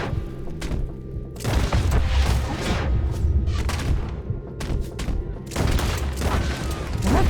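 Heavy gunfire in the video game Red Dead Redemption 2 in a wooded area, dense repeated loud shots and booming reports in rolling bursts with short gaps, close and dominant.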